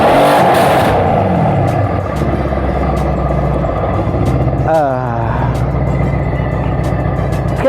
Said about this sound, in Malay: bunyi idle dah start berubah apabila mod tu dimasukkan ke Sport Plus